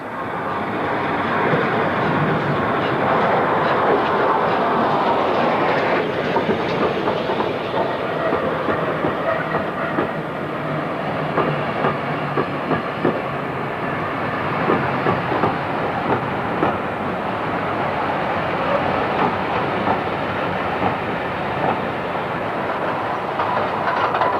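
A Great Western Railway train with newly restored chocolate and cream coaches rumbles along, a steady, loud rolling noise with clickety-clack rhythm from the wheels running throughout.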